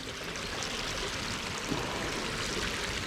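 Groundwater pours steadily out of the earth inside an urban storm sewer, a continuous close rushing trickle with a bright splashing texture and a slight hollow echo, unbroken and without voices.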